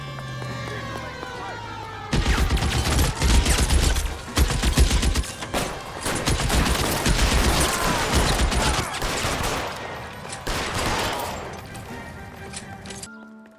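Dense, loud gunfire fills a shootout in L.A. Noire, with sustained bursts and rapid shots layered over engine and siren-like noise, starting after a short quiet lead-in and lasting most of the clip; voices talk briefly in between.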